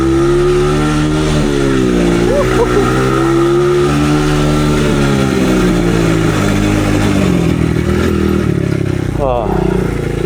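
A rough-running dirt bike engine chugs and sputters up close, its pitch wavering unevenly through loud clattering revs while someone talks over it.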